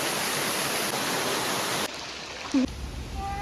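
Steady, loud rush of a waterfall in Wari Chora, Meghalaya, a dense broadband roar that cuts off abruptly partway through and leaves quieter background with a brief thump.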